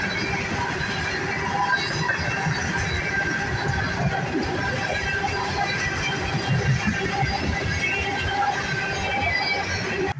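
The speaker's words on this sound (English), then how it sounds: "That was a long train, a very long train, possibly the longest train I've ever seen." A very long freight train rolls steadily past near the Appalachian Trail at Weverton Cliffs, continuous rumbling and clattering of rail cars with faint wheel squeal, loud and unbroken throughout.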